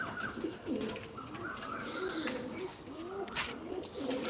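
Pigeons coo in soft repeated throaty calls, several birds overlapping in a steady rolling rhythm, close by and moderately quiet.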